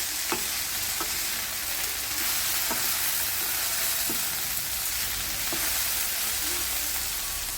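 Bitter gourd, potato and tomato sauté in a pan under a dense, constant sizzle, with occasional spatula clicks and scrapes spaced a second or so apart.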